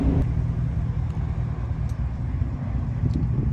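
A truck rolls along on a flat tire, a bolt loose from the fender rubbing as it goes, giving a steady close, heavy low rumble with wind buffeting the microphone throughout.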